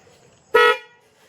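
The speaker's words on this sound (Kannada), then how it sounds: "ಹಾರನ್ ಹೊಡಿ ಒಂದ್ಸಲ" A single short car horn honk, loud and close, sounding once for about a quarter second in an otherwise quiet setting.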